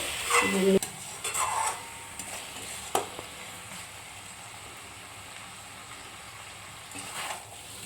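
Fried potatoes being stirred into chicken kosha in a pan, a few scraping spoon strokes and clinks early on, then a quiet low sizzle with another brief scrape near the end.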